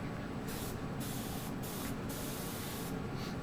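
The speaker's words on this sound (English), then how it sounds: "And this is the final coat of paint going on now." A spray gun hisses steadily as it lays a final coat of pearl paint onto a car panel, a continuous close airy rush with slight pulses in the upper hiss.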